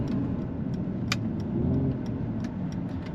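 A Mercedes-AMG with a sport exhaust runs close and loud as a steady engine drone, with a brief rise in pitch near the middle that fits a downshift blip.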